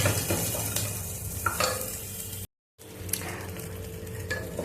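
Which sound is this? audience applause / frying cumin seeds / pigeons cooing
frying cumin seeds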